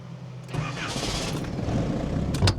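A Toyota 4Runner with a TDI diesel engine cranks and fires up while in gear with the clutch held to the floor, a loud, close whirring start that settles into a rough, steady running rumble.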